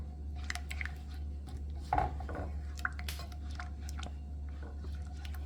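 Barbecue sauce with lemon or lime juice being stirred in a pot: soft wet squishing and light scraping clinks from a utensil against the pot, close and irregular, over a steady low stove hum.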